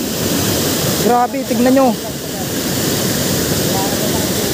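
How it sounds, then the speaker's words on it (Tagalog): Strong, steady rush of a powerful waterfall, the dense roar filling the whole clip while voices briefly exclaim over it. "Rumaragasa yung tubig,"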